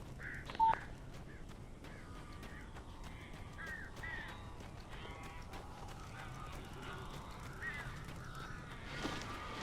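Crows cawing in the video game Alan Wake, a run of harsh repeated calls at moderate distance over a steady dark ambient background, with a sharper burst near the start and another near the end.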